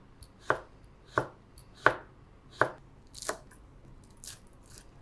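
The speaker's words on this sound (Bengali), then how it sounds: "এখানে আমি এখন কিছুটা ধনিয়া পাতা কুচি করে নিচ্ছি।" A knife chops coriander leaves for a bhorta with about six crisp, evenly spaced strokes, close and clear, the last ones lighter.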